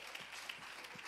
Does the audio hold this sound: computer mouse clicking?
no